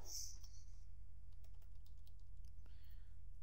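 Someone types on a computer keyboard while setting up server management tools, a faint run of light key clicks over a steady low hum with no speech.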